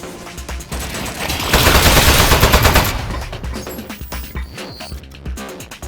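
Rapid gunfire from a turret ambush in Aperture Desk Job, a dense burst of shots that swells to its loudest in the middle and then thins into scattered bursts and mechanical clatter.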